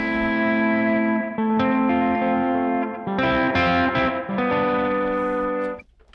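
Ambient electric guitar pad played on a parts-caster guitar run through effects units, a sustained shimmering chord wash with distortion and chorus that shifts several times, loud and continuous, then fades abruptly at the end.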